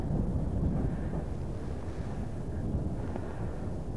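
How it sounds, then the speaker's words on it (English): Gale-force wind on a UK beach buffeting the microphone, a loud continuous low roar and rumble with no voices. "I can't do anything about this wind. It's gale force here."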